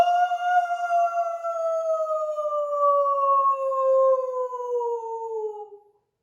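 A long, steady howl with a clear harmonic tone, slowly falling in pitch over several seconds before cutting off, made by a human voice imitating a wolf.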